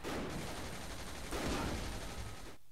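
Rapid gunfire from the video game Saints Row The Third crackles in dense bursts, with a sharper volley partway through, at moderate loudness and without speech.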